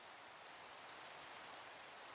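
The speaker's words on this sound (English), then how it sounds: "Okay. Raining." Steady rain falling in Minecraft, an even, soft hiss of drops with no breaks, quiet and without voices.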